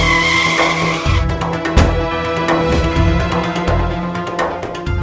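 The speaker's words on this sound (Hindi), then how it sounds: "ड्राइवर, गाड़ी रोको," A car skids and screeches to a halt on a road, with a sustained tire squeal over engine noise and a steady, loud, dense layer of sound throughout.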